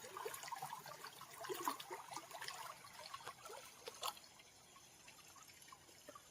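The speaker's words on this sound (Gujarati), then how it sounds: "આવાજ ચાલશે પાણી ના." Water trickles and gurgles faintly along a channel in a farm field, with soft uneven splashes and drips that fade toward the end.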